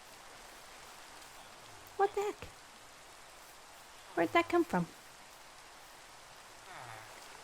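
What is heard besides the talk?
rain falling in a video game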